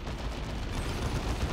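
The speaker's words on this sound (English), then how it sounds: "Las cannon getting shots now." Lascannon fire in Dawn of War 2 as a dense, continuous rumble of weapons fire and explosions, steady and loud throughout with no clear gaps.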